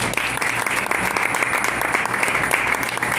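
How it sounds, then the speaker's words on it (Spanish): A church congregation applauds together, dense steady clapping that fills the room at an even level throughout, with no talking over it. "¿Cuántos pueden aplaudir al Señor?"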